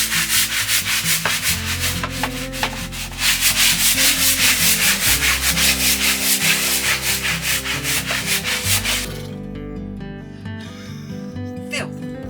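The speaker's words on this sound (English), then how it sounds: "Just use cheap washing up liquid. That's all I ever use. Just give it a gentle scrub." A boat cockpit scrubbed with cheap washing-up liquid gives steady, close, rhythmic rubbing and brushing strokes, loud and continuous, then easing off near the end, with no talk.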